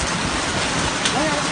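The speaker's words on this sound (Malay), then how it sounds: "Hujan es. Hujan es loh." Hailstones pelt a car during a storm, a loud, dense clattering roar that stays constant throughout the brief moment.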